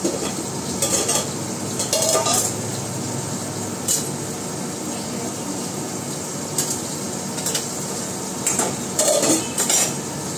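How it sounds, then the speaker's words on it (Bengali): A steady frying hiss from fish frying in a pan, punctuated by occasional metallic clinks and scrapes of a utensil. "মাছ ভাজছি"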